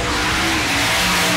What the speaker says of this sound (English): there's a distinct loudness about the car, the number 7 car. I think the muffler has come off